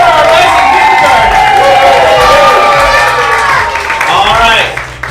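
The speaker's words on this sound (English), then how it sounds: "Let's give a cheer for our rising kindergarten." A loud crowd cheers and shouts for rising kindergartners at an indoor event, a dense sustained roar of many voices with children's high yells and some clapping, fading slightly at the end.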